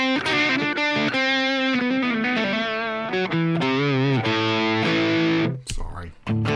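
Electric guitar through a Line 6 Helix with just an amp model, cabinet and reverb, playing distorted sustained chords and riffs, loud and close, before cutting off abruptly near the end.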